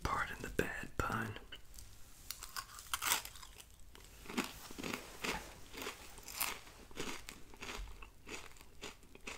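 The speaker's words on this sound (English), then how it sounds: "crispy, so crunchy, even with a little milk in it." Kellogg's Cocoa Krispies cereal is chewed up close with a little milk, sharp crisp crunches arriving in irregular bursts. Soft whispering sits between and under the bites.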